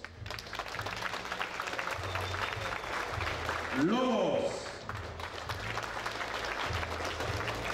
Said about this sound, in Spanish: Vamos a recibir con fuertes aplausos al equipo de